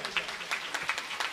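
An audience at a Shiv Mahapuran katha gathering applauds, heard as brisk, somewhat sparse clapping from a crowd, moderately loud and with no speech over it.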